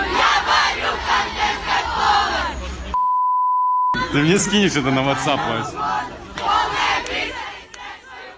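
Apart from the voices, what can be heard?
crowd of teenage fans gathered to meet a blogger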